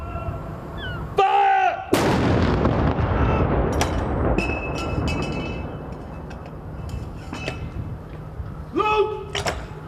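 A ceremonial artillery gun salute marking the death of Prince Philip, with a single loud blast from one gun on command, followed by a long fading rumble and echo while shouted orders ring out before and after.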